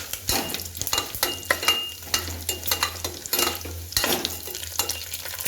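Whole spices, including cinnamon, cloves and cardamom, fry in hot oil for a vegetable biryani, with a soft sizzle under repeated scrapes and clinks of a spoon stirring in the pan.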